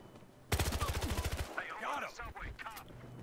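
A quick burst of automatic gunfire in a shooter video game, loud, evenly spaced rounds for about a second after a quiet start, followed by scattered game effects and a voice speaking.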